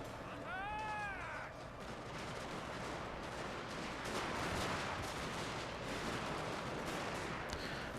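Line infantry volleys in a Total War Shogun 2 Fall of the Samurai battle at a bridge, a dense continuous crackle of musket fire with a brief bird-like call early on, steady and loud throughout.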